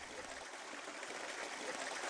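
Water flows steadily at the headwaters of Marsh Creek, a faint, continuous rushing trickle without breaks.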